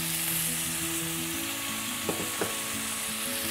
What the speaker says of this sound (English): We are going to caramelize the onions along with the potatoes.